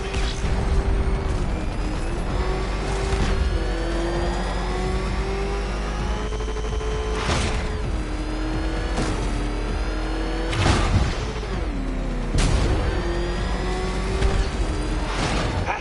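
The Batmobile's engine in Batman: Arkham Knight roars steadily and loudly, with repeated surging revs and whining pitch shifts over a constant rumble as the car speeds along.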